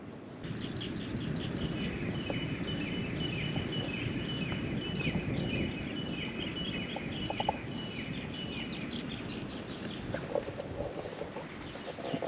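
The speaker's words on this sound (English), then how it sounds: "I'm not sure what bird that is. Sounds really cool." A bird calls over and over with rapid chirping notes at a sailboat anchorage off Molokai, Hawaii, partly masked by a constant rushing noise of wind and water.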